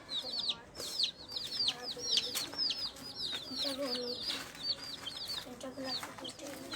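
Many dyed, colourful chicks cheep continuously in rapid, high-pitched peeps, with a few lower clucks underneath.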